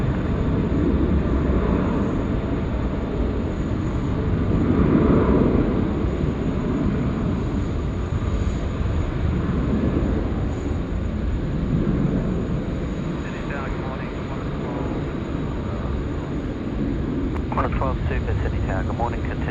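A plane takes off from runway 16 right at Sydney Airport, a steady broad engine roar that holds at a distance for the whole stretch, with faint voices and radio chatter underneath.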